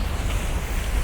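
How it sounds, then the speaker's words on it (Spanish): Sea water surging against the rocky shore below the clifftop houses of Peniche, Portugal, heard as a continuous loud roaring wash mixed with heavy wind buffeting, with no speech over it. "El agua ahí golpeando siempre."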